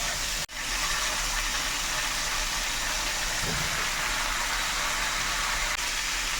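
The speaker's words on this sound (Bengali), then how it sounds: "এইগুলো আমি ভেজে নেব।" Vegetables for Bengali shukto frying in a pan, a steady broadband sizzle and hiss that holds evenly throughout at moderate level, with one brief clunk near the start.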